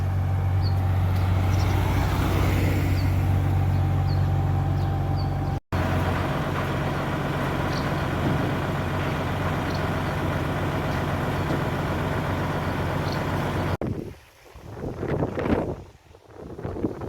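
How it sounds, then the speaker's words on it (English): A concrete pump runs at a building site, a steady heavy low-frequency engine drone with a constant rumble, loud and close for most of the stretch before briefly dropping away near the end amid wind buffeting. "Assuming that's some kind of concrete pump."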